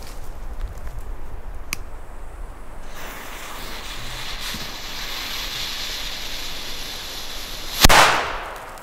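Another Panda D-Böller firecracker detonates once, late on: one sudden loud crack with a brief decaying tail, after several seconds of quiet outdoor ambience and faint handling clicks.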